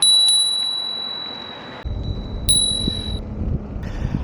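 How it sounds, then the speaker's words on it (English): A bicycle bell dings twice with a bright ringing tone that lingers, over wind rumble against the microphone. "recognise the sound of a bicycle bell"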